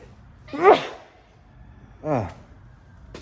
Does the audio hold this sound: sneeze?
yes